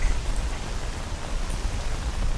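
Steady rain from the video game Escape From Pripyat hisses in a dense, even wash with faint scattered drops and no talking.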